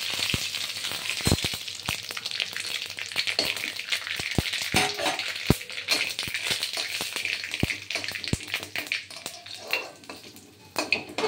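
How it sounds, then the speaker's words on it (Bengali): Mustard seeds spluttering and vegetables sizzling in hot oil for Bengali semolina upma, a steady close fry broken by sharp pops and a few clinks of a utensil against the pan, with no talk. "প্রথমে আমি তেল গরম হয়ে গেছে, দিয়ে দিলাম সরষে ফোড়ন"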